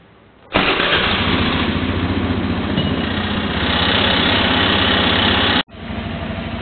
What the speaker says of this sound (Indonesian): hidupkan motor.